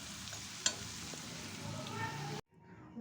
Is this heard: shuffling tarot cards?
no